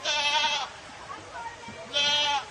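Sheep at a livestock show bleat twice, a loud, close call at the start and another near the end, with people talking in between.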